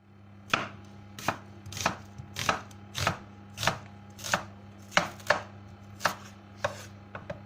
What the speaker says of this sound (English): We cut the white onion.